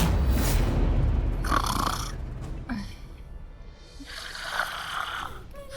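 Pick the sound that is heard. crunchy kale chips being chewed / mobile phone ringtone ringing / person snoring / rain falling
person snoring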